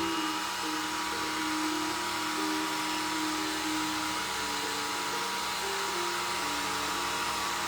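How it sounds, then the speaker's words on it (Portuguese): A simple hot-air hair dryer blows steadily to dry a freshly painted watercolor, giving a loud, continuous whooshing hum with a faint whine that stays even throughout, with no talking over it. "Vou usar esse secador. Ó, só um secador simples, de ar quente."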